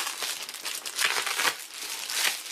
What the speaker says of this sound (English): these envelopes have Velcro snaps, so you just pop them open